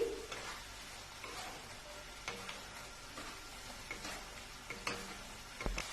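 Paneer cubes being stirred into masala in a pan, a soft continuous sizzle with scattered scraping and clinking of a spoon against the pan, close and steady throughout.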